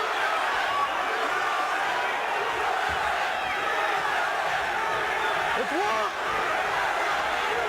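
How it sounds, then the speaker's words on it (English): A large arena crowd roars steadily throughout a 1995 UFC 6 fight, a dense and continuous wall of voices with possible chanting that never breaks. "The crowd is chanting USA, which is where Tank is from."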